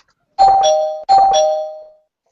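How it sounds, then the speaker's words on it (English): A spoiler bell sound effect on a comic book podcast: two bright ding-dong chimes in quick succession, loud and clean against silence. "Hit the spoiler bell."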